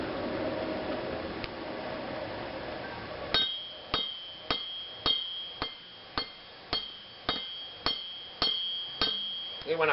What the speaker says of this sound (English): I bevel down with the hammer, so I'm actually hitting it at an angle to give it to bevel it.